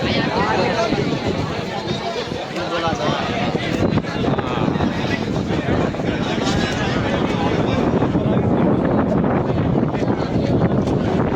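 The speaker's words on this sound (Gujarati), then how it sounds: "બહુ જ હવા બહુ જ પવન છે" Strong wind roars continuously at the Ambaji temple atop Girnar, buffeting the microphone with loud, broad rumble from start to finish while people talk underneath.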